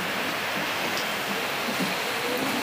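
Rain falls steadily outdoors as a dense, even hiss with no breaks, fairly loud and close, and no other distinct sounds on top.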